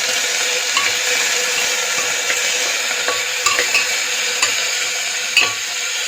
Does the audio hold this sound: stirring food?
yes